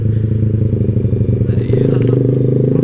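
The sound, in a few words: motorcycle with loud aftermarket exhaust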